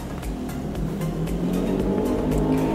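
A motor vehicle drones by nearby with a steady engine rumble that rises slightly in loudness, punctuated by rhythmic low thumps, with no talking over it.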